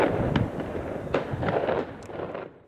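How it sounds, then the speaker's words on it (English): Fireworks burst at the close of a day out, a handful of sharp pops and crackles rising over a dense, steady rumble, fairly loud and with no voices. "And our fantastic day is ending with a firework,"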